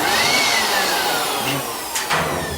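A built-in hair dryer on a yarn winding machine in a textile mill blows fluff off, a steady loud broadband whoosh with brief stronger bursts near the end, set against ongoing machine noise.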